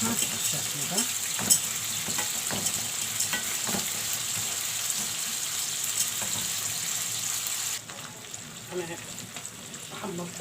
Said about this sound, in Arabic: حمر بقى الشعريه بتاعتنا بالشكل ده.